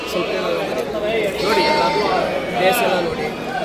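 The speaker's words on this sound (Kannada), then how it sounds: "ಬಿತ್ತನೆ ಮರಿ" Bandur breed ram lamb bleating in a busy market setting, its cries rising over a steady background of people talking nearby.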